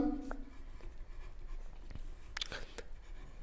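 Chalk or marker strokes on a board during a Class 10 quadratic equations maths lesson, a few short scratchy strokes close by, quiet and without talk.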